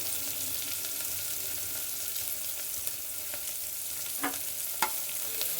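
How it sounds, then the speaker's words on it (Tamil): Onions and crushed garlic sautéing in a pan for a dried fish curry, a continuous soft sizzle with a few faint scrapes and pops near the end. "நல்லா வெங்காயம் பூண்டு வதங்கிடுச்சு"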